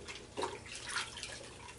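Wet, soft splashing and squelching as fiberglass casting tape is squeezed underwater while a short leg cast is applied, quiet and close with a brief louder burst near the middle.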